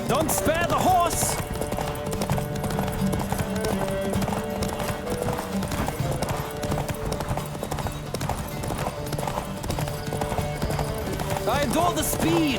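A horse gallops hard during a race in the video game Witcher 3, with steady, rapid clip-clop hoofbeats running the whole way through, a neigh or two, and voices shouting over the run.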